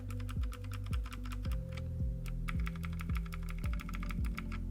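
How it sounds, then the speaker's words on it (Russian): Rapid, steady typing on an A4tech Bloody B760 computer keyboard, a continuous close stream of crisp clacks with heavier periodic thumps underneath, loud throughout with no voices. "кроме звука тайпинга, потому что он слишком сильно режет слух"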